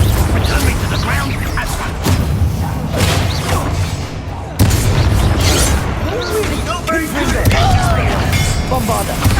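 Spell explosions in the video game Hogwarts Legacy: repeated loud booms, thuds and whooshes, with one sharp blast midway, under a voice shouting spell names.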